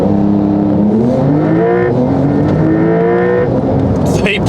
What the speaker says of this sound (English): The beauty about these 911s is that I'll just launch all day, every day, and they won't sweat.